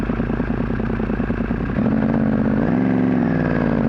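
A motorcycle engine runs steadily with a rough mechanical clatter as the clutch engages and the bike is put into gear on a cold, 30-degree day, the engine note shifting partway through; loud and close, with no talking.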